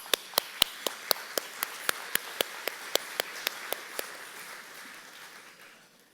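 Sparse, evenly spaced claps ring out at an awards ceremony, about fifteen sharp single hits in a steady rhythm that stop partway through and leave a fading room hum.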